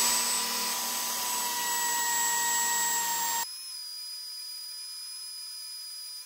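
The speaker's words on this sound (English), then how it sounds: "Let me flip the sandpaper and see if I can get the rest of this junk off." Sandpaper scrubbing built-up junk off an old shoe: a loud, steady whirring grind with a high whine that runs for about three seconds, then drops abruptly to a thinner, quieter hiss.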